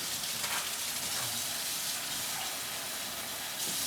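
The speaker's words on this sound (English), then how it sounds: "So now we need 1 cup of warm water. Time to fill it up to 1 cup." Soft, steady hiss of warm water running from a tap into a measuring cup, faint and continuous without talk.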